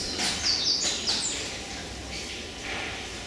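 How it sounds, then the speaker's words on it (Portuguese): Outdoors, birds give a few brief, faint, high chirps early on, then fade into quiet ambient background. "nos pássaros"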